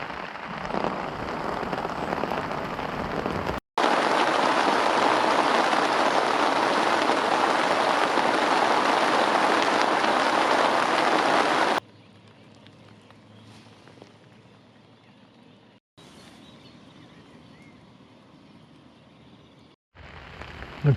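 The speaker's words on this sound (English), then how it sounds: "We've had pretty much constant rain." Constant rain at a carp fishing swim, a dense, loud hiss of drops on a surface for most of the clip, easing to a quieter patter after a sudden cut, with short breaks.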